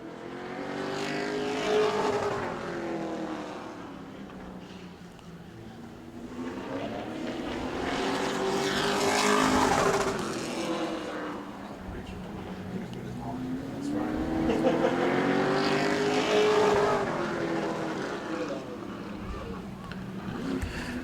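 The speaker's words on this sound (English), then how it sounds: "Both drivers trying to pick up a little bit more speed in these Pro Trucks." Pro Trucks race during qualifying at Auburndale. Engine roar swells and fades in repeated passes as trucks sweep by, under a commentator's voice.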